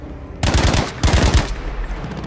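Loud, close automatic gunfire in the Battlefield V video game, fired at grenades in the air: two dense rapid bursts, each about a second long, separated by a brief gap.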